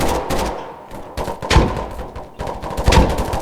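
Gunfire rattles in a video game, repeated close bursts of rapid shots in uneven clusters, loud against a steady background, with no talking.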